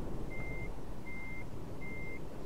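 Reversing beeps from a heavily damaged truck in Euro Truck Simulator 2: three evenly spaced electronic beeps, moderately loud over a steady low engine rumble, with no talking.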